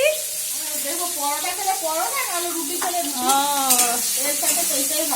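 Paneer frying in a hot pan hisses with a steady bright sizzle, heard up close beneath a voice talking over it.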